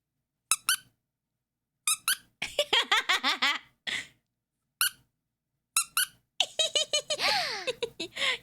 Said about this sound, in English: Wait, you want to hear a squeak?